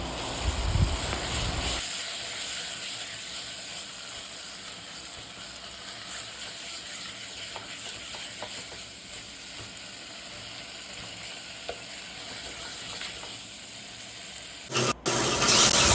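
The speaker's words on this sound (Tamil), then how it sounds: "வெங்காயமும் தக்காளியும் ஓரளவுக்கு நல்லா வதங்கிடுச்சு" Onion and tomato sizzle and hiss as they are fried and stirred in a pan for crab rasam, a steady close frying sound with occasional clinks and a sharp clatter near the end.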